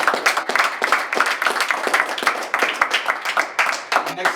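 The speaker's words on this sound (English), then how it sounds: "Give yourself a round of applause." A room of people at a sneakerhead support-group meeting clap together, giving a dense, lively round of applause that stays even for several seconds.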